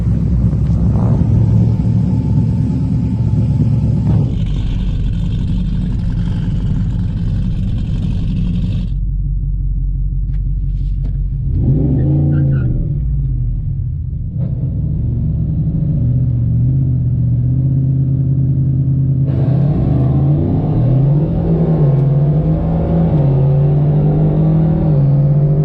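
A boosted 2021 Ford F-150 pickup makes a dragstrip run, its engine roaring loud and close with deep, sustained rumble, rising in pitch through gear changes, dropping briefly, then surging again, with no voices.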